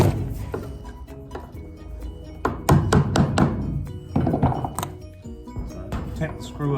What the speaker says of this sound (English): pop a little screwdriver under the edge and use it as a little lever while you screw it out